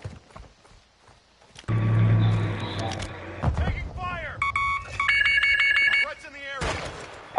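A phone chimes with a patterned electronic notification ringtone, layered beeps and tones sounding over game noise, with speech in the background.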